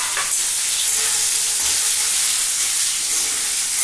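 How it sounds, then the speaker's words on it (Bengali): Cut potatoes sizzle in hot oil with bay leaf and dried chilli, giving a loud, steady, close hiss of frying that runs throughout with no voices. "এবার সঙ্গে আমার আলুগুলি কেটে আমি ধুয়ে রেখেছি, ওটা ভেজে নিয়ে একসাথে ভাজা হয়ে যাবে।"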